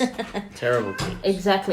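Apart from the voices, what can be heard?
cat meowing in the background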